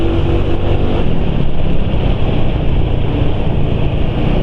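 A Honda Nex 2 scooter engine running on fuel treated with White Fat additive, a loud, steady, close-up drone with a sporty tone that holds without pause.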